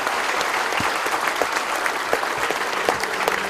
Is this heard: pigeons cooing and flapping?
no